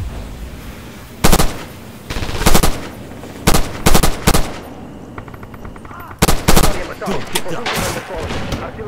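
Loud rifle gunfire in the World War II shooter game Red Orchestra 2, with sharp cracking shots in bursts and single reports spread over several seconds.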